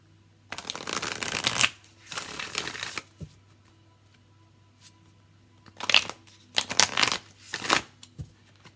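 Modern Love Tarot cards being shuffled in several crisp riffling bursts, close and clear, separated by short quiet pauses with a faint low hum underneath.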